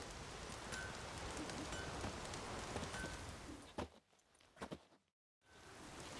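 Steady rain falls in the video game The Witcher 3, a soft, even hiss of drops that keeps up for several seconds, then thins out and briefly cuts to near silence before returning.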